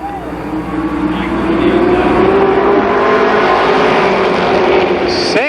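Mini stock race cars roar around Columbus Motor Speedway in a loud, sustained pack, engines droning steadily at close range with a rising pitch as they pass, a commentator's voice running over the noise.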